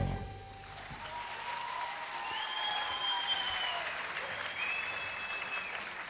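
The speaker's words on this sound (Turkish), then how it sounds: "Alkışlar lütfen." A talent show audience applauds a singer who has just performed with a guitar, a fairly soft, even wash of clapping with a few voices calling out through it.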